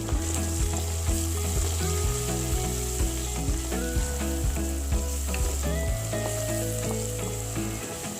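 Fiddlehead fern and fish head fry with salt and turmeric in a pan, giving a steady, close sizzle with light stirring throughout. Melodic background music plays over the frying.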